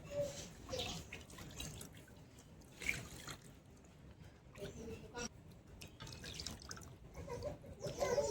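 Vegetables rinsed in a basin of water in a home kitchen: soft splashing and dripping with faint sloshing, mixed with someone talking throughout.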